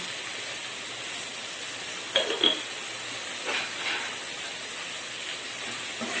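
Tomatoes sautéing with salt in a pan for South Indian drumstick sambar give off a steady, close sizzling hiss, broken by a couple of brief scraping stirs.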